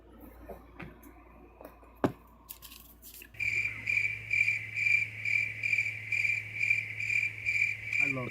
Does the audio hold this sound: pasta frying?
no